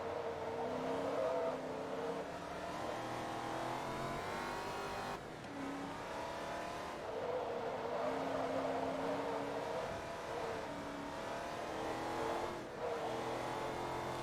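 Racing car engine in Forza Motorsport 2, revving and shifting through repeated rising whines as it accelerates along a track, loud and close, with no talk over it.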